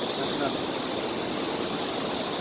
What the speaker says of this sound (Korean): 잠실 수중보의 물소리가 엄청납니다